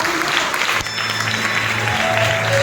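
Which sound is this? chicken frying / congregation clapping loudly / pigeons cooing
congregation clapping loudly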